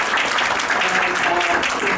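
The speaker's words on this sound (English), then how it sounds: "Please give them a round of applause for putting this together." Applause from the audience at a Greater Washington Area community forum, a steady dense wash of clapping with some faint voices mixed in, continuous and fairly close throughout.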